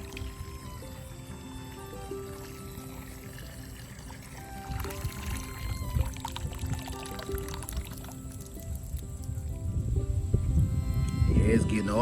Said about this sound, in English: Water it in real good. You want that water running out of the bottom of that bucket.